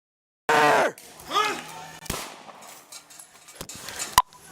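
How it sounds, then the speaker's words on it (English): Gunshots ring out in a backyard during a police confrontation: a loud opening burst, then a few sharp isolated cracks spread over several seconds, with shouting voices and outdoor noise in between. "Shots fired in the backyard."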